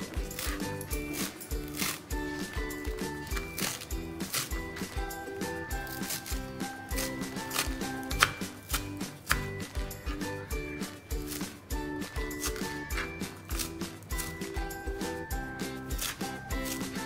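A knife chops fresh coriander finely on a board for kothimbir vadi, a fast, steady, continuous series of close knocks and crunches that carries on without pause and without talk.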